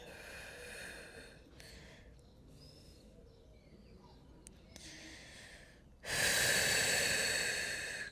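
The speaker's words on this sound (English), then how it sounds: "Deep breath in and relax down." A person takes a deep breath in and then lets it out during a full-body stretching routine, with soft airy breaths close to the mic and a loud, long exhale near the end.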